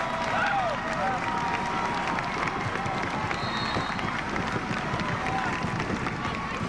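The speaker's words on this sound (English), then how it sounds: "The crowd going wild here at Torrey Pines High." A crowd cheers and roars loudly at a boys' high school basketball game at Torrey Pines High, a sustained dense din with sneakers squeaking on the court and an announcer talking over it.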